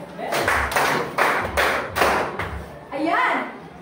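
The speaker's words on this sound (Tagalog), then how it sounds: "Bibigyan natin ng 5 palakpak din ang pares ni Binibining Sibuyas." A group of schoolchildren claps in unison in a classroom, about five or six heavy, evenly spaced claps, close and loud, followed by a short burst of children's voices.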